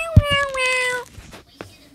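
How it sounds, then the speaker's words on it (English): A cat gives one clear, drawn-out meow close by, followed by a few soft thumps and rustles in a quiet room. "I don't speak cat. What did Fluffy say?"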